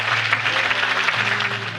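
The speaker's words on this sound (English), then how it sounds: "Can we have one more round of applause for them?" Wedding guests clap together in a brief, warm burst of applause, close and steady, with a low hum of voices mixed underneath.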